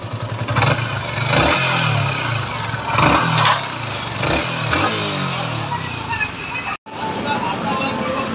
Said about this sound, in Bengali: ইন্দো বাইকের এই যে সাউন্ডের অবস্থা দেখেন।